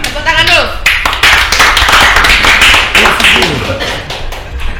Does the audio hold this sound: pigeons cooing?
no